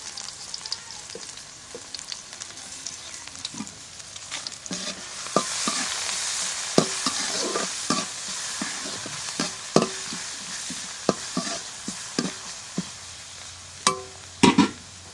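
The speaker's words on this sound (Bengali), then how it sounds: "পেঁয়াজটা এখন একটু তেলের মধ্যে ভেজে নিই।" Onions fry in oil in a home kitchen with a continuous close sizzle, broken by repeated scraping and clicking stirring strokes that grow sharper near the end.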